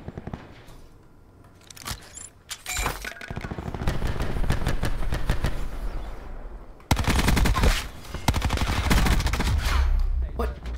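Rapid automatic fire from an MX9 submachine gun in a video game, dense crackling bursts that grow louder and denser midway, with brief breaks and sharp clinks scattered throughout.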